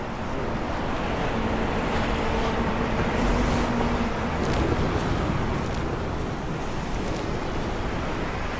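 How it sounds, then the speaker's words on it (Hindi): Ocean waves rolling onto Diamond Beach in Iceland make a loud, constant roar of surf mixed with strong wind noise on the microphone, with no speech over the sound. "ये डायमंड बीच है दोस्तों, देखो डायमंड बीच।"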